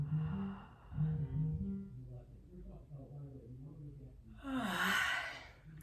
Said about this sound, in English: Good, non-forceful, relaxed yawns.